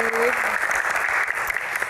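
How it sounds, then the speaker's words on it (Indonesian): A studio audience claps on a televised talk show, a brief, full burst of steady applause that holds at an even level throughout. "Tepuk tangan teman-teman."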